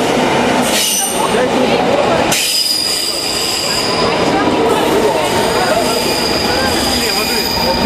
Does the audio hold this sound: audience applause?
no